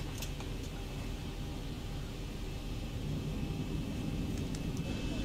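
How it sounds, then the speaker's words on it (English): A steady low rumble of an airliner's engines while taxiing in the X-Plane 11 flight simulator, constant and fairly loud with a broad hiss on top, running alone without talk. "Let's go ahead and start taxiing."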